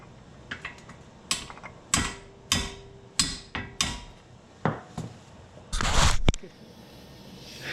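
Sharp metallic hammer strikes on tight brake parts of a Cobra car during a brake and shock replacement, roughly a dozen separate close blows in an uneven rhythm, followed by a short louder clatter near the end.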